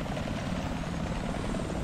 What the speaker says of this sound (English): There's been a helicopter hovering to my right for the longest freaking time.